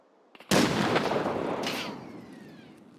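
A grenade explosion in a multiplayer shooter game: one sudden, loud, booming blast after a couple of faint clicks, followed by a long rumbling decay with a brief secondary crackle.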